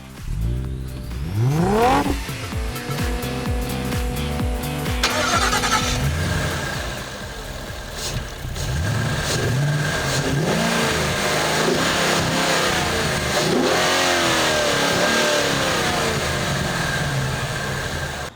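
A 2014 Ford Mustang GT California Special engine starts and revs hard several times, then settles into a loud, throaty idle with occasional blips of the throttle.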